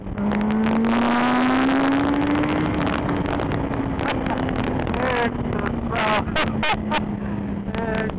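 A 2007 Yamaha YZF1000 R1 motorcycle engine revs up close, its steady tone climbing and then settling into a loud, continuous drone, with wind buffeting the microphone and a few sharp rattles toward the end.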